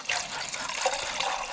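Water running from a tap while measuring out water for making mochi, a brief, close, steady gushing splash filling a container.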